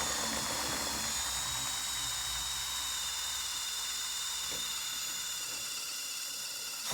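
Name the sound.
step drill drilling metal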